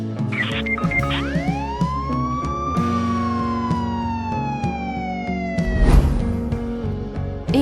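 A synthetic ambulance siren in the Roblox game Brookhaven wails in one long sweep, rising then slowly falling, over steady background music, with a short clatter near the end.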